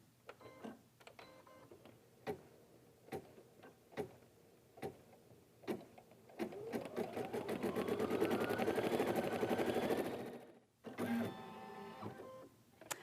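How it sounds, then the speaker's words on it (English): An embroidery machine stitches the lettering "Be Mine" onto the cuff of an in-the-hoop gift bag, first in sparse ticking stitches, then a dense, steady whirring run that stops abruptly before a shorter burst resumes. "next it's going to stitch the words "Be Mine" on the top of the cuff there"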